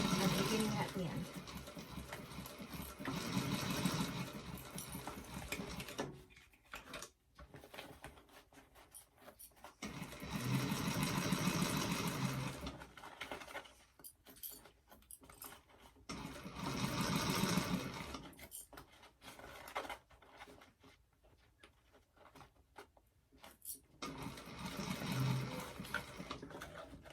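A sewing machine set to a 3.5 stitch length sews a Nora doctor bag in several bursts of steady whirring, separated by pauses for adjusting the fabric, with quiet handling noises between runs.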